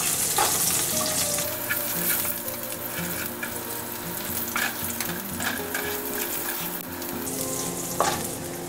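Herbs, asafoetida and garlic frying in hot oil, giving a steady close sizzle with repeated stirring clicks and scrapes of a utensil against the pan for several seconds, with no talking.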